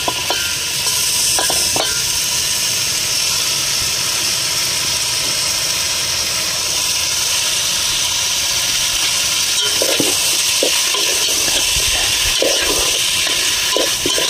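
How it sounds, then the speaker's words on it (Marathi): Marinated meat hits a hot onion-tomato gravy in a loud, continuous sizzle and hiss, with occasional stirring clatter, during cooking at a farm party. "फोडणी देऊया."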